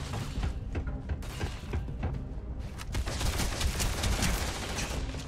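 Starfield gunfight: dense, continuous rapid gunfire with overlapping bursts and impacts, loud and sustained throughout, intensifying in the second half.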